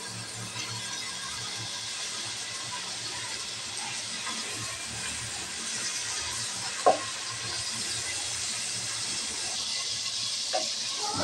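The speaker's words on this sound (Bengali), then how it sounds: "এখন দিয়ে দিব চিংড়ি মাছ। চিংড়ি মাছটাকে আমি ভেজে নেব।" Prawns frying in hot oil in a pan, giving a steady, close sizzling hiss throughout, with a couple of brief clicks near the end and no voices.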